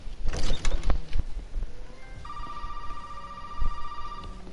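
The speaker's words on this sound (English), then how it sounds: "Oh, why is the phone ringing?" Electronic telephone ringing with a steady, sustained tone that sets in partway through, layered over louder game sounds and thumps in a live PS4 gameplay broadcast.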